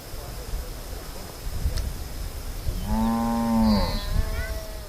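Cattle on a farm in a mountain valley village, one cow giving a clear, drawn-out moo near the mic, with soft wind and rustling around it and no talk.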